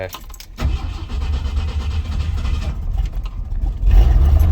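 A truck engine cranks and catches, then settles into a steady, loud, close running rumble that swells louder near the end, with no talking over it.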